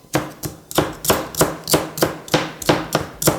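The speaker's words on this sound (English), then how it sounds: "I'm just giving these a rough chop" A knife rough-chops vegetables for beef soup on a board, about ten crisp, evenly spaced strokes, close and loud, with no talking.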